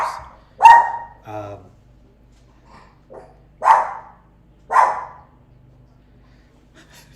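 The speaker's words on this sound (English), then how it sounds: "he's barking at the gardeners" A dog barks at gardeners at home, several loud, close single barks spaced a second or so apart, with a brief murmured voice between them.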